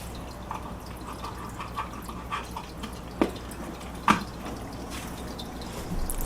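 An aquarium air pump bubbles water in a betta fish tank, producing sporadic soft plops and drips over a faint, steady background hiss.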